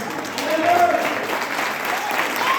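Congregation members clap during a church service, a brief steady patter of hands with a faint voice briefly audible near the start.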